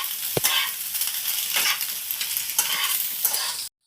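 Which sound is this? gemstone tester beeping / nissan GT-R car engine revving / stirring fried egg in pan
stirring fried egg in pan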